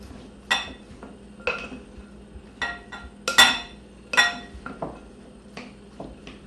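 A spoon clinks and scrapes in a bowl while stirring supreme pizza toppings of green peppers, mushrooms and pepperoni, giving about a dozen sharp metallic taps at an uneven rhythm, close and fairly loud with quiet between strikes.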